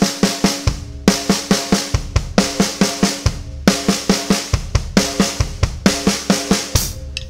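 A drum kit blasts a fast 32nd-note lick of right and left hand strokes followed by double kick drum hits, repeating in tight, aggressive bursts alone and up close.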